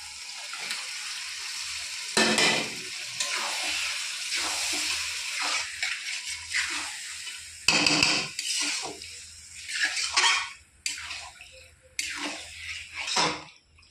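Goat liver and stomach meat, rubbed with salt, turmeric, chilli powder and oil, going into a pan: bursts of loud sizzling and spattering alternate with clattering cookware and quieter stretches of low hiss.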